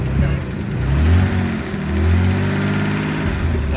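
A 1986 Toyota Supra engine held at revs while the accelerator is worked, a loud, close mechanical drone that swells twice before settling back to a steady run.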